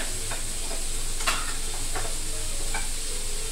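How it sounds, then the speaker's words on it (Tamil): Two large onions sautéing in oil for butter chicken give a constant loud sizzle, broken by a few sharp scrapes and clinks of stirring. "2 பெரிய வெங்காயம், அதையும் வந்து இந்த எண்ணெயிலே வதக்கிக்கோங்க"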